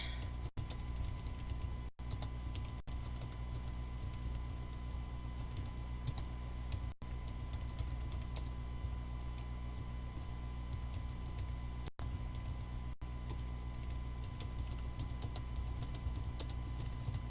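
Typing on a computer keyboard, quiet rapid key clicks in irregular bursts with brief pauses, close but faint over a low steady room hum.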